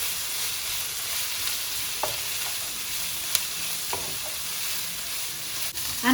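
Chicken and udon noodles frying over high heat give a steady, close sizzle throughout, broken by a few sharp scrapes and clicks of stirring.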